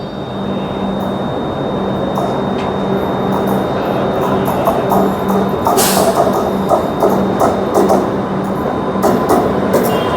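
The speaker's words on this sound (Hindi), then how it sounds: "देखिए सामने से कोई ट्रेन भी आ रही है, बढ़िया से कर्व के साथ कोई ट्रेन भी आ रही है।" A train approaches on a curved railway line in India, a steady broad rumble of wheels and rail noise holding throughout with faint rhythmic clicks and a brief brighter burst midway.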